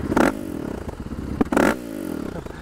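KTM 500 EXC-F dirt bike engine sputtering and stalling, short clattery bursts of revving that cut out abruptly, close and fairly loud with no talk.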